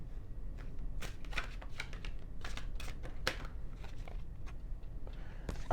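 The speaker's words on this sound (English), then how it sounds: "I want to throw 2 more cards to get a clearer understanding of who you were" Tarot cards being shuffled and drawn, a dense run of close, crisp riffling flicks and slaps, irregular and continuous, with no talking.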